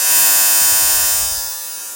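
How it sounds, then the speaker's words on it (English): A battery-powered fan held close, running steadily with a loud, buzzy whir that eases off slightly toward the end, alone without talk. "It's not the quietest of things, but it blows out some air. It's a good fan."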